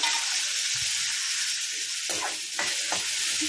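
Green chili and tomato frying in a pan, a steady close sizzle with a few spoon stirs scraping through the middle and end, no voices.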